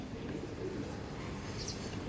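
Giribaj pigeons, high-flying cream-sized birds kept at a home loft for sale, coo softly in a short stretch, low and faint against background noise.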